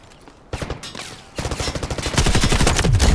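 Gunfire in the Delta Force shooter game, with a few scattered shots followed by sustained rapid automatic bursts that grow louder and denser, close and harsh.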